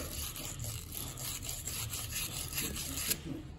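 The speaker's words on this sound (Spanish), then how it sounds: "Y aquí tenemos para lijar internamente." Steady rough scraping of sandpaper rubbing inside a plumbing pipe, continuous and close with a dense, gritty hiss.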